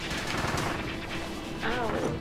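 Gunfire from Kirby and the Forgotten Land rattles in a dense, steady burst under game music and effects, with a brighter sweeping game sound near the end.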